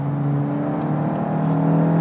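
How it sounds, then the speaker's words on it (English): Engine of a 2020 Volkswagen Golf GTI Mk8, a steady, close hum held at an even pitch for a couple of seconds, with no audible rise or fall. "Now the engine sound is ever so slightly synthetic, but it doesn't sound awful"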